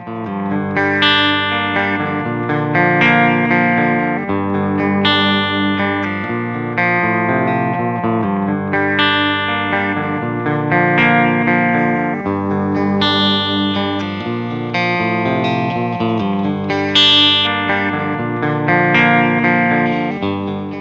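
Electric guitar played through a Boss effects pedal with the mix control all the way down, a sustained, processed tone with shimmering chorus-like modulation and slight grit, steady and loud throughout.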